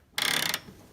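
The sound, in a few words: power wrench tightening 17 mm hitch bolts on Prius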